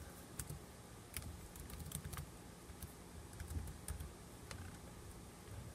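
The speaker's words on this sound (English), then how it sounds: "So put in your username first." Typing on a Chromebook keyboard to enter a username, a fairly faint, steady run of light key clicks with a few sharper taps, with no voices.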